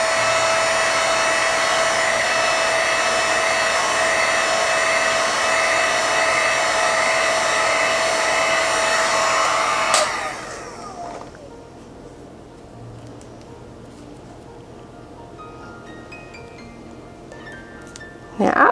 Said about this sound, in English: I'm going to hit it just a smidgen with the heat gun.